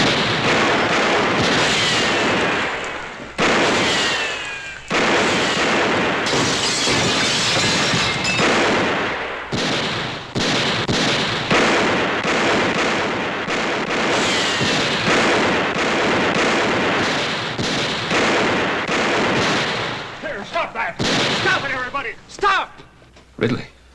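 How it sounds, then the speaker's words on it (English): A volley of gunshots is fired over a crowd's heads in an old Western TV drama, the sharp cracks and echoing bangs repeating loudly in quick succession with voices shouting among them. "Let's put a few shots over their heads."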